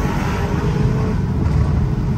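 A 2024 Lamborghini Urus with an aftermarket exhaust, its engine giving a steady, loud low rumble while cruising, continuous and close with no pauses.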